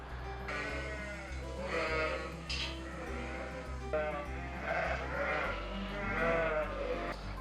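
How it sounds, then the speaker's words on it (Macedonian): Assaf breed sheep on a farm bleat repeatedly, several overlapping calls rising over a steady low drone of farm machinery, with no talking. "овци од расата Асаф. Таа е раса која што ние имаме увезено од Шпанија"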